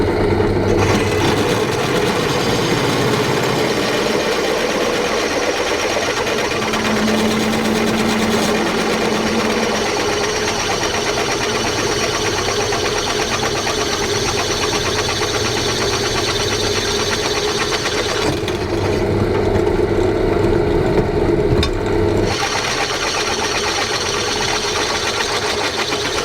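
A sharp drill bit boring into a Dana 30 WJ steering knuckle during a high-steer brake upgrade, giving a steady, loud mechanical whine that runs nearly continuously, easing briefly before resuming near the end.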